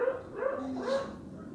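A stray dog gives a few short, close barks and yips in quick succession, with no voices over them.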